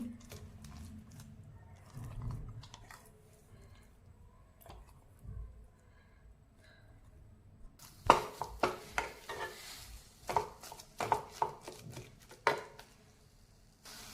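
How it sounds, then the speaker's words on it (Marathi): Ground amla paste going into a kadhai and being stirred, with soft scraping and muffled thuds at first, then a run of louder, sharper spoon-against-pan scrapes and knocks in the second half, no voices. "आता कढईमध्ये आपण जे आवळे बारीक केलेले ते घालते मी"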